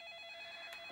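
A telephone rings faintly in a room, a short electronic trill heard alone at low level.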